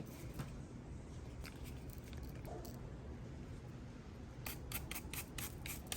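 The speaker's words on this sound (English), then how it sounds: "we're gonna compare the crunch of this Echo blade with that cutting blade" A hair clipper fitted with a zirconia Echo blade cuts hair, giving a soft crunching buzz with bursts of crisp snipping toward the end, fairly quiet and without talk.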